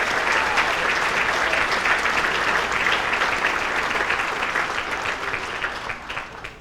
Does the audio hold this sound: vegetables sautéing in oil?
no